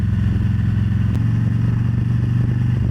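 A Harley motorcycle, nicknamed Big Red, cruising at speed with a steady low engine drone and wind rush, continuous and close throughout with no talking.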